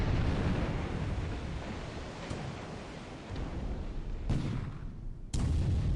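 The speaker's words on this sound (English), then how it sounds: "these 4-inch guns are doing pretty well" Heavy naval gunfire from 4-inch guns in the War in the Pacific: Admiral Edition wargame, a dense continuous roar of blasts with sharp fresh bursts near the end, loud and without talk.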